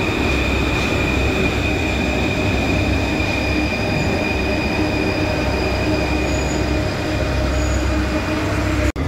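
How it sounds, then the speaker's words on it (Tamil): Paris metro trains pulling into a station, a loud continuous rumble of wheels on rails with high sustained squealing tones throughout, close and unbroken until a brief cut at the end. "2 மெட்ரோ ஒன்றா வருது."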